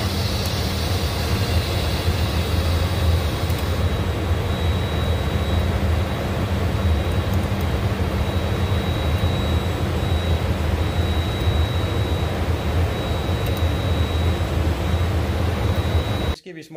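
Embraer Phenom 300 business jet engines roaring during the takeoff roll, a loud steady broadband roar with a high whine heard from the cockpit, with voices over it before it cuts off at the end.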